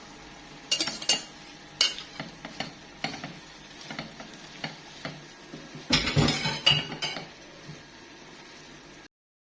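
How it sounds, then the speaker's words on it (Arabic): A utensil stirs shrimp frying in red sauce in a pan, with scraping clinks against the metal and a soft sizzle, in irregular close strokes that grow busier toward the end. "نعاودو نرجعو الخبيط تاعنا تتقلى مع لاصوص، وبيان سور نحركوها"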